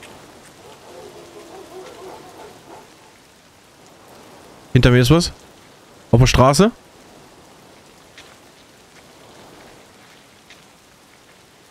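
Steady soft rainfall in Escape From Tarkov on the Customs map, a continuous hiss that runs the whole time under quiet talk, broken by two brief loud bursts from other in-game sounds.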